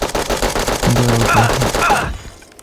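Rapid, loud volleys of automatic gunfire in the mobile shooter game Bullet Echo rattle continuously for about two seconds, then stop abruptly.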